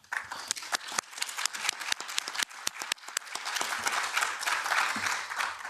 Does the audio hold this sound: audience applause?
yes